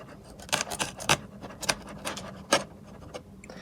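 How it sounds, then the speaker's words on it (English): A small box cutter knife slices open the sides of a cardboard box, producing a run of sharp, scratchy cuts and scrapes in quick irregular bursts, close and fairly loud. "Got my little box cutter right here. Nice little knife. Picked up in Tennessee a couple years back. We're gonna cut open the sides real quick."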